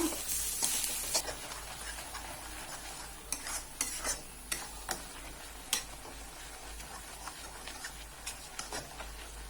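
Chili powder, turmeric and roasted cumin powder fry in a pan for a puti fish curry, with a constant sizzling hiss and a string of sharp scraping stirs and taps from a spoon, and no talking.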